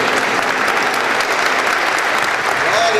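A church congregation claps together in sustained, dense applause, loud and steady throughout with no pause.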